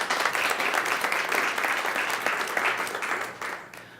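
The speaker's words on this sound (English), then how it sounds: "Big round of applause for Stacy." Loud, dense audience applause from a crowd, steady for a few seconds before fading out near the end.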